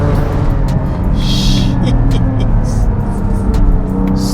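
A Porsche 718 Cayman GT4 with 309 kW is driven hard in third gear on an open road, its engine a loud, steady, dense roar heard from inside the car.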